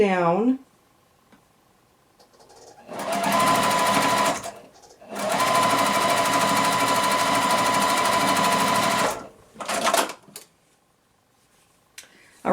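A sewing machine stitching quilt pieces for a beginner two-window-house block runs in two steady bursts, a short one and then a longer one, close and loud, with brief speech before and between.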